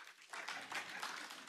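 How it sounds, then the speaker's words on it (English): Church congregation clapping in response to news of the pastor running the Chicago Marathon, a soft, steady patter of many hands that starts after a brief hush and continues evenly, moderately close. "go ahead, you can clap"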